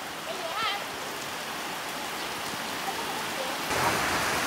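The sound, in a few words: heavy rain falling in the countryside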